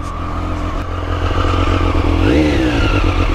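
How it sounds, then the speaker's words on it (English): A Triumph Street Triple RS motorcycle engine rumbles loudly and continuously nearby, its exhaust note rising in a brief rev before settling back. "Exhaust sound."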